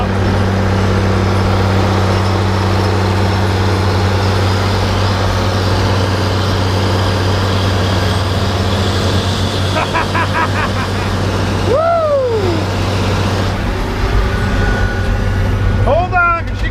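An old Morbark wood chipper's engine drones loudly and steadily, with a continuous low mechanical rumble and a few sharp squealing sweeps from the machinery near the end.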